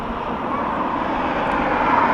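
A KLM Boeing 737 arriving from Amsterdam on approach, a steady, moderately loud jet engine roar holding evenly throughout.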